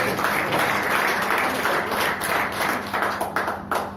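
An audience at a Hindi poetry recital claps steadily for a few seconds, dense broadband applause that holds loud and even before thinning slightly toward the end.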